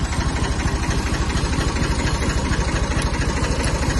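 A cold Massey Ferguson 240 S tractor engine idles close by with a loud, steady, rhythmic diesel thrum and a faint high whine, running continuously with no voices.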